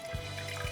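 Water is poured into a Thermomix bowl standing on its scales, a quiet, steady liquid trickle with a faint thump of flow near the start and again toward the end.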